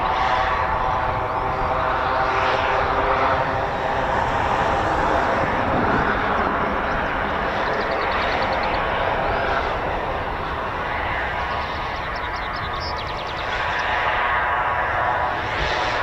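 Grob Prefect training aircraft at RAF College Cranwell give off a steady propeller engine drone that holds moderately loud across the whole stretch, with a faint murmur of people in the background.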